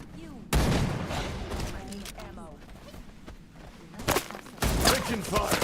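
Loud close volleys of gunfire in the shooter Wild Assault come in abrupt bursts, with quieter stretches between them where a voice talks.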